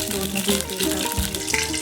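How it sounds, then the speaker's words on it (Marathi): Pea masala puree sizzles and sputters in hot oil in a kadhai, a steady close-up crackle with faint clinks and background noise. "प्युरी केलेली आहे ती आपण यात परतून घेऊया"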